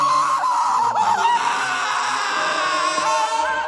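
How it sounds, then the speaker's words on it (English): A scream from the anime Attack on Titan played back, a shrill sustained wavering cry with warbling tones, fairly loud and continuous throughout with no talk over it. "That scream was the meme."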